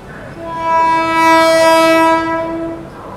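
A Bihar Sampark Kranti Express train sounds its horn as it passes, one long loud harmonic blast swelling and fading over roughly three seconds.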